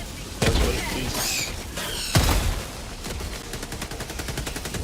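A grenade thrown in the Helldivers video game detonates amid heavy gunfire. Loud blasts and booming impacts are layered over rapid, sustained automatic fire that ends in a steady stutter of shots.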